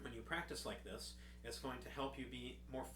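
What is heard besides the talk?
No everyday noises stand out.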